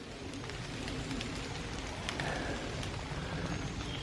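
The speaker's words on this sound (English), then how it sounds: "it's raining." Rain falls steadily outdoors, a faint, even hiss of patter with occasional distinct drops hitting nearby surfaces.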